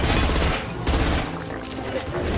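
Gunfire from the Mass Effect 2 video game: a loud, dense burst of shots with crashing impacts, then a short lull before the firing picks up again.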